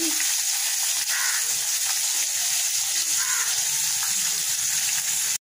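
Rohu fish pieces fry in a pan with a steady, close, dense sizzling hiss that runs unbroken for several seconds before cutting off abruptly; no voices.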